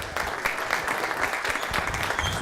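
Crowd applause at a Durham pitch event, steady dense clapping sustained throughout at moderate loudness with no voices over it.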